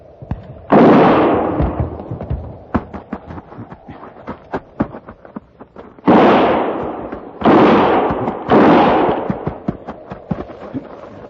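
Rapid gunfire from an old time radio western drama: a steady crackle of sharp shots mixed with several loud, long booming blasts, close and intense, with no talk over it.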